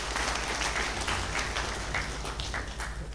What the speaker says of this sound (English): I thought we were going to give a round of applause to him.